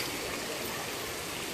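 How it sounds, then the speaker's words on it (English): Flash floodwater rushes steadily through the streets of Eastwood, a dense, continuous broadband wash of flowing water at moderate level with no pauses. "This is flash flooding."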